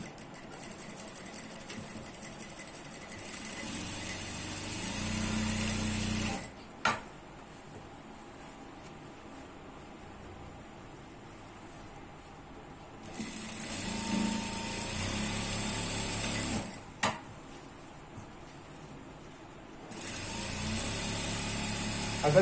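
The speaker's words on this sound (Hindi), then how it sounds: "अब हम इसके बाजू में यानी इस साइड में फिर से एक सिलाई लगाएंगे" Stitching a seam on ankle-length pants, the sewing machine runs in several bursts of fast high whirring split by quiet pauses, with small clicks between runs.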